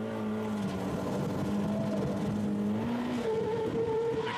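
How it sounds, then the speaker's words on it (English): Drift car holding a deep, steady drift at a D1SL stage, its engine droning loud and continuous with tire noise underneath, the pitch rising slightly near the end. "The queen shows off her mastery with a deep and steady drift to conclude the Tanso stage."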